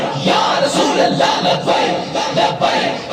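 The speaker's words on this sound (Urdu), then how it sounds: "اور اسی یہ نعرے کیوں لاندے ہیں؟" A large crowd at a religious gathering chants slogans in unison, loud and close, a rhythmic roar of many voices swelling and falling across a few seconds.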